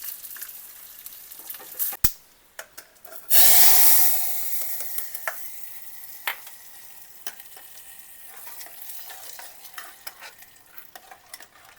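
Hot oil with mustard seeds and cumin sizzling for Gujarati dal dhokli tempering: a sudden loud hiss bursts in and slowly fades, with scattered pops and spoon clinks around it, no talking.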